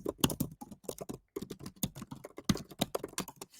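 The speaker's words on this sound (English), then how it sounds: "So as you type a message" Typing a message on a computer keyboard: quick, close, crisp key clicks in uneven bursts with brief pauses between runs, loud and clear with nothing else heard.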